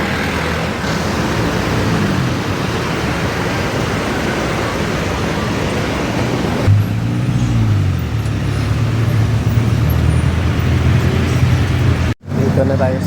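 Ride aboard a route 14D jeepney through hot, busy street traffic, a steady loud engine and road rumble with passing vehicles, a voice talking partway through.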